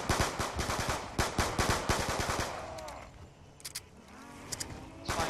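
MP40 submachine gun firing in a zombies-mode video game round, rapid bursts of automatic shots for the first three seconds, loud and dense, then quieter game effects with a few sharp clicks.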